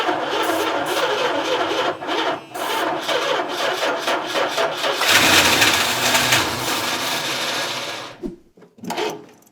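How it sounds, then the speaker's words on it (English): A 1968 Dodge D200 truck cranks on starter fluid with a loud, continuous rhythmic grinding that roughens and swells midway, then cuts off abruptly near the end with a few sputters. "She's going to crank so I can be the starter fluid guy."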